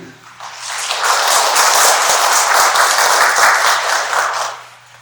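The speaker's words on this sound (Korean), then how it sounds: "큰 박수 부탁드립니다" An audience at a 2024 business briefing for publishing-industry professionals breaks into applause, a dense, loud burst of many hands that swells, holds for several seconds and fades out at the end.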